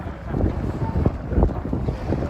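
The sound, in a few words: wind blowing into microphone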